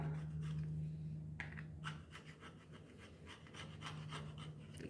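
Repeated rasping scrapes as paint is scraped off a hacksaw blade, a rhythmic series of short strokes, close and quiet over a faint steady hum.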